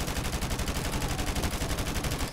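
An AK rifle in Call of Duty Modern Warfare Remastered fires a loud, sustained, evenly rhythmic automatic burst with no pause.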